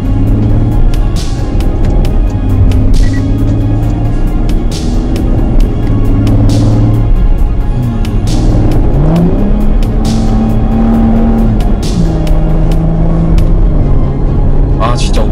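A Porsche Cayenne Coupe drives in sport mode, its engine droning loud and steady from inside the cabin with shifting pitch as it accelerates and eases off, while people talk over it.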